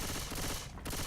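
Rapid gunfire with unlimited ammo in the Left 4 Dead video game, fired at a Tank in a continuous loud burst with a brief dip near the end.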